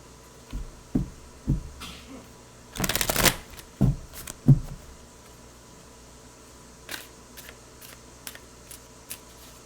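Circus-themed tarot cards are shuffled by hand, giving soft riffling taps and one loud burst of fluttering cards midway. Lighter flicks and clicks follow. It sounds close and quiet, with no talk.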